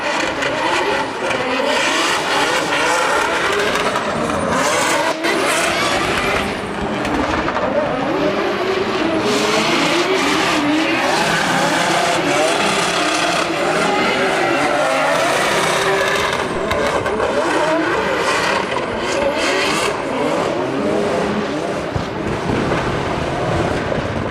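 Drift car at a Chicago Drift practice session racing around the track, engine roaring loud and continuous with tire squeal and skidding throughout, wind buffeting the microphone.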